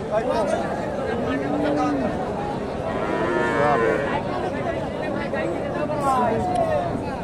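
A Friesian bull at a busy cattle market lows under a steady crowd hubbub, with people talking nearby throughout.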